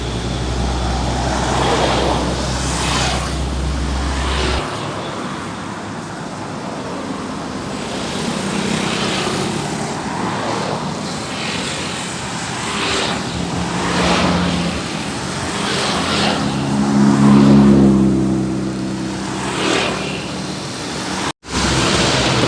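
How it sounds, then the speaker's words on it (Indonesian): An ALS intercity bus bound for Cikampek roars past close by on the road, a loud continuous engine and tyre rumble with deep low drone early on, swelling again near the end before cutting off abruptly. "itu ada satu unit bus ALS dengan Novin 336 tujuan ke Cikampek teman-teman"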